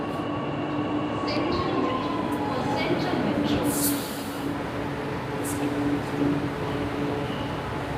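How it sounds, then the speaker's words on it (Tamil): A Chennai Metro train rumbles steadily with a continuous roar, faint wheel squeals and occasional rattles from the carriage. "train board பண்ணியாச்சுங்க"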